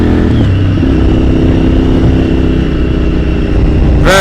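A Honda Firestorm VTR 1000 motorcycle accelerates hard in a 0-60 run, its engine a loud, continuous, close roar with rising tone and no talk.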